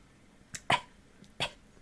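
Short coughs from the Volibear character in the League of Legends video game, three quick dry bursts close up against near silence.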